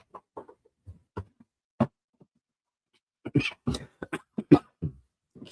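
Several short, sharp coughs come at intervals, close and fairly loud, followed by a quicker cluster of throaty coughs and throat clearing, with no speech.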